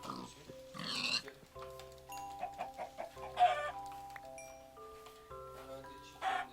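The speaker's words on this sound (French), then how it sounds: "Voilà, des chicken, des chicken." Chickens cluck in a Minecraft-style video game, a series of short clucks and bird calls over tonal background music, with brief voices talking.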